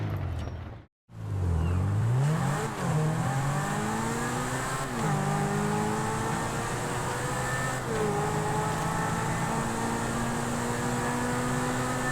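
A Slamvan engine in GTA Online revs up after a brief silence, its pitch sweeping upward through several gear changes into a loud, steady drone.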